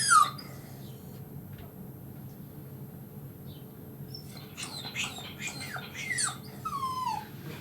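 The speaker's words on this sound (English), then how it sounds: "You were squeaking. She squeaks. It's a horrific sound." A Cavoodle dog gives excited, high-pitched squeaks and whines in short bursts, one sharp cry at the start and then a cluster of rising and falling squeals near the end.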